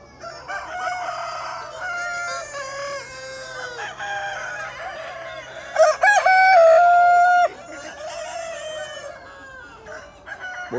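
Roosters crow repeatedly and hens cluck at a chicken farm, several overlapping crows, one loud and close, over a constant busy flock chatter.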